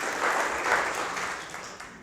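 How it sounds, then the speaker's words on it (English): An indoor audience claps for a scribe at a talk, a dense steady round of applause that fades slightly toward the end, with no speech over it. "Another round of applause for our scribe"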